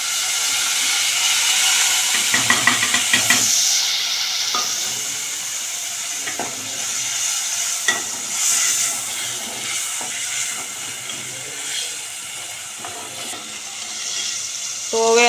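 Masala gravy sizzling and frying in a pan as it is stirred for a village-style Narshinga (Bhangara) fish curry, with steady hiss and a few sharp scraping stirs, close and fairly loud, no talking.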